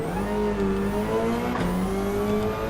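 A race car engine in Gran Turismo 7 drones loudly and steadily, its pitch rising and dipping as the car shifts and accelerates around a track, with no talk over it.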